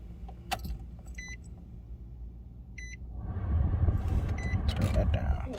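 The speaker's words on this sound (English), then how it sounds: "Let me stick the key up in here" A car key going into the ignition of a 2014 Nissan Sentra S, with a few light metallic jangles and chime-like beeps, then a low car hum rising near the end; someone speaks briefly.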